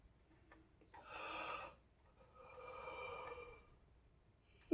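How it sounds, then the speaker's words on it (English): A person yawns twice in a quiet room, each a drawn-out breathy exhale lasting about a second, with a faint tick and stillness between them. "It's not a good idea to yawn during a reaction video."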